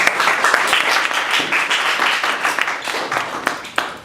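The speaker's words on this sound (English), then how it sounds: "a round of applause for them coming up here and taking questions" Lively audience applause at a student government debate forum honoring the candidates, close and loud, with individual claps standing out in a dense, uneven patter that gradually thins toward the end.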